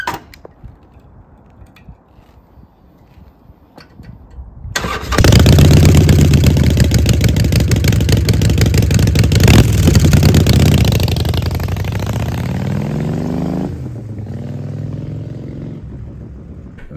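After a quiet lead-in, a Harley-Davidson 48 with a blacked-out engine fires up and roars loudly through its exhaust pipes. It rises to a heavy rev, then eases into a lower, rumbling idle.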